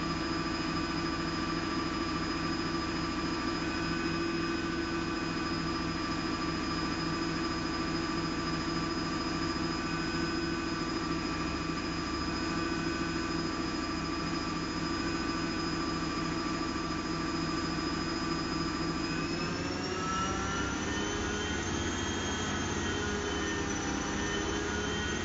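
A Servis or Zanussi washing machine spins at 1000 RPM, a steady high motor whine with drum rumble running loud and unbroken, the pitch rising near the end as the spin speeds up.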